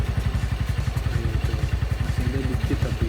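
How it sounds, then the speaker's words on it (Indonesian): A Honda Shogun SP motorcycle idles up close while an engine flush circulates through its oil, a steady rapid thumping pulse with mechanical clatter running throughout. "ini udah di idle sekitar 5-10 menit sambil sirkulasi si oli dan engine flasnya"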